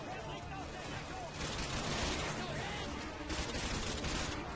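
Dense rapid gunfire from the Call of Duty Modern Warfare 2 video game, continuous bursts close and loud across the whole stretch, with a voice talking over parts of it.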